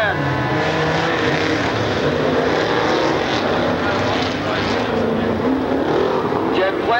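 Snowmobile engines at the fall 1993 Crandon world championship race, a steady loud high-pitched drone of several machines racing, with a commentator talking over them throughout.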